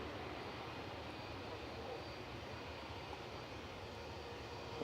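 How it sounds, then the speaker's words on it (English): A Ryanair Boeing 737-800 jet arriving from Oslo at Manchester Airport roars with a steady, distant engine rush, faint and even throughout, swelling slightly at the very end. "This is Ryanair coming in from Oslo. GRUKB, flight 3227, Boeing 737-800."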